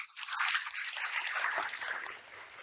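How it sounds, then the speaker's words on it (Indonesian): An audience applauds a company director at the close of a Pertamina leadership talk on energy transition; dense, steady clapping fills the room and then gradually thins and fades out. "Baik, mungkin tepuk tangannya untuk Ibu Dir."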